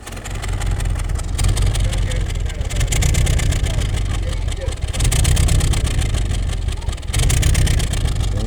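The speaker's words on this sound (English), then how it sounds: "Today I have a Volkswagen Jetta that have a misfire issue." A Volkswagen Jetta engine with a misfire, stored fault P0302 on cylinder two, runs at idle nearby. A loud, continuous rumble carries uneven, stumbling pulses throughout.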